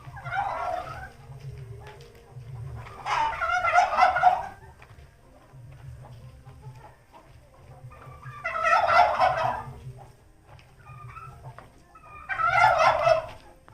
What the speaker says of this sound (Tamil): இங்கே பார்த்தா நாட்டுக்கோழி.